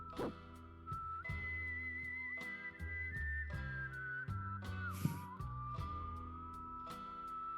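A melodic whistled tune from the soundtrack of Final Fantasy VI Pixel Remaster. It holds long sustained notes over soft accompaniment with steady percussive ticks, and the level stays fairly even throughout.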